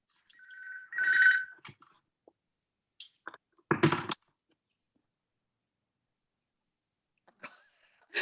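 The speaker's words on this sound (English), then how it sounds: "I've got the phone going" A telephone rings with a short electronic trill, followed by a pause and then a louder burst of handling noise, with faint scattered sounds after it and no talking over it.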